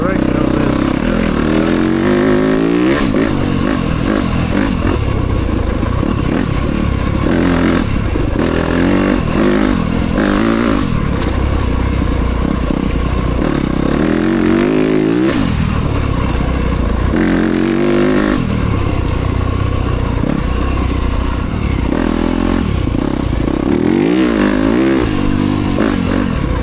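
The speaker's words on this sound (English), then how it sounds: "Third and fourth gear acceleration on this." Yamaha YZ300FX dirt bike fitted with a 304cc Athena big bore kit screams loudly up through third and fourth gear, engine note rising and dropping with each shift in a continuous close roar.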